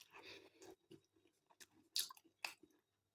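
Crunchy pork pie with cranberry sauce and apple being chewed close up, several crisp bites and munches in an irregular rhythm, quiet between chews and silent at the end.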